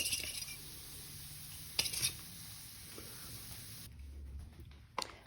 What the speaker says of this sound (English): you can give it all a good stir